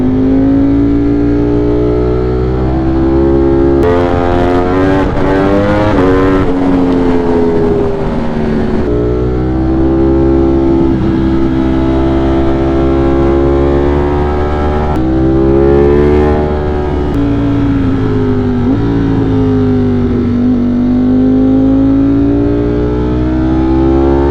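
A 200+ horsepower motorcycle rides along a foggy road, its engine droning loud and steady with rising and falling pitch as it shifts and accelerates, plus wind rush throughout.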